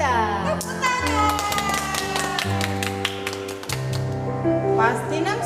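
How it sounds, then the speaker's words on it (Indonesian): Children at an online Sunday school service clap their hands in a quick, rhythmic pattern of sharp taps over music, with young voices chattering and singing along. "Tepuk tangan."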